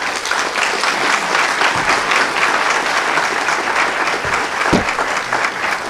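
Sustained audience applause welcoming a keynote speaker at a Cornell energy conference, a steady wash of clapping from a large crowd that holds at an even level throughout.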